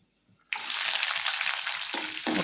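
A sudden loud hiss as tempering spices and curry leaves hit hot oil, then a steady, close sizzle with the crackle briefly easing before surging again.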